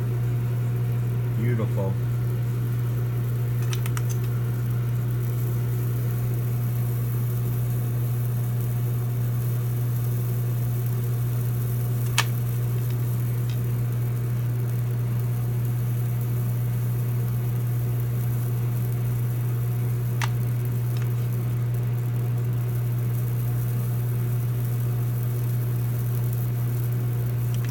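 A batter mixer/dispenser set to its pancake setting runs with a steady, loud motor drone throughout, a few faint clicks over it and a brief spoken word.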